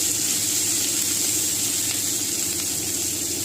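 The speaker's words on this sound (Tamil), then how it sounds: "பூண்டு போட்டுக்கலாம். வெங்காயம் போட்டுக்கலாம். அதை நல்லா வதக்கிக்கலாம் பொன்னிறமாக." Garlic and onion sauté in a pan for brinjal rice, giving a steady, close, continuous sizzle and hiss with no break in intensity and no talking.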